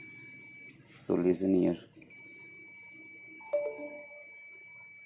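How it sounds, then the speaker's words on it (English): A multimeter in continuity buzzer mode sounds a steady high-pitched electronic tone continuously, briefly interrupted while someone speaks a few words, then resumes alongside a faint click. "I kept the meter in buzzer mode."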